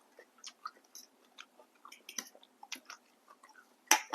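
Spicy glass noodle salad with Vietnamese pork sausage being chewed close up, a run of soft irregular wet crunches and bites with a louder crunch near the end, no talking.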